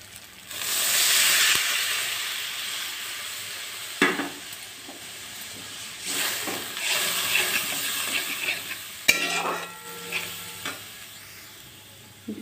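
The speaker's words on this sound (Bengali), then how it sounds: "এবার এর মধ্যে আমরা জল অ্যাড করে দেবো।" Water hits hot fried masala in a pan for shahi paneer and erupts in a loud hissing sizzle that slowly settles, broken by repeated scraping stirs of a spoon against the pan.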